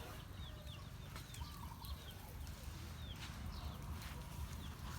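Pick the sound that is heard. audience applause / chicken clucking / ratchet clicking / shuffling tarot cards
chicken clucking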